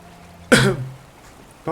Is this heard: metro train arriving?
no